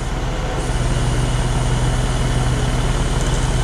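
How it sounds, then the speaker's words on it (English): A truck engine runs loudly and steadily as a pallet is dragged from a box truck bed onto a flatbed truck, a constant close rumble with a low drone throughout. "The pallet is hooked up and slowly being dragged"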